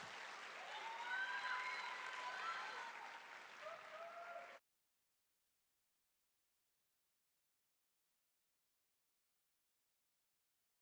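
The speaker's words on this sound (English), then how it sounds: "Give her a big round of applause." An audience at a benefit performance claps warmly for about four and a half seconds, dense and even with a few excited calls, then cuts off into silence.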